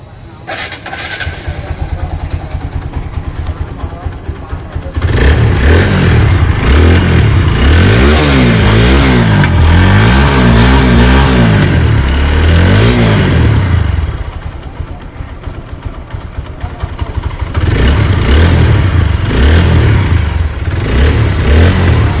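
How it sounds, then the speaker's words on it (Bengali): A TVS Apache 4V ABS motorcycle engine idles, then revs up loudly in repeated surges before dropping back to idle and revving again, close by; a voice speaks briefly. "তার আগে দেখাবো আপনাদেরকে এই বাইকটির সাউন্ড কন্ডিশন"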